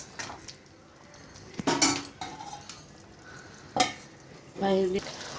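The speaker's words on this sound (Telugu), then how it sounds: "ఇలా కలుపుకొని మూత పెట్టేసుకోండి ఫ్రెండ్స్" Prawn gravy simmering in a pot is stirred with a metal spoon, giving scraping clinks and soft sizzling, then a lid clatters down on the pot; close, intermittent kitchen sounds with no talking.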